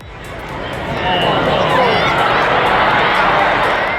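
Large football crowd at Anfield roaring as a goal goes in late in the match, a dense wall of cheering and chatter that swells after the first second and holds loud and steady.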